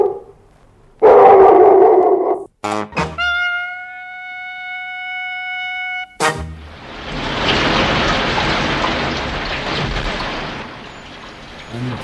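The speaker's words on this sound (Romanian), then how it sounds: "Într-adevăr, plouă." Heavy rain from a radio-play sound effect sets in as a dense, steady hiss through the second half, following a dog's howl and sustained whistling tones earlier, with no talking.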